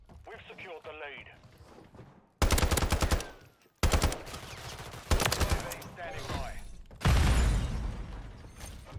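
Bursts of automatic fire from the ISO Hemlock rifle in Call of Duty: Modern Warfare III, three or four loud close rattling volleys separated by short pauses, with a voice talking before the first burst.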